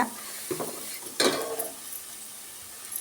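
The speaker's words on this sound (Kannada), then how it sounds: "ಇವಾಗ ಸ್ವಲ್ಪ ಫ್ರೈ ಮಾಡ್ಕೊಳ್ಳೋಣ. ಆಯಿಲಲ್ಲಿ ಚೆನ್ನಾಗಿ ಫ್ರೈ ಮಾಡ್ಕೊಬೇಕು." Raw ground spices for cumin pepper rasam frying in oil give a low, steady sizzle, broken by a few short spoon scrapes and stirs near the start, close by with no speech.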